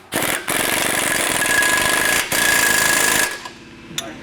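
Power tool, likely an impact wrench with an 18mm socket, running in two sustained buzzing bursts on Jeep Wrangler JL sway bar link bolts with factory hardware, loud and close, with a brief pause between, then stopping.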